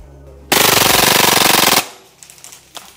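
Poseidon FMG9 airsoft SMG fires a loud, close full-auto burst of rapid, evenly spaced shots lasting over a second, then stops abruptly, leaving quieter mechanical handling noise.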